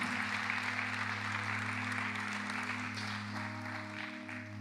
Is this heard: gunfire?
no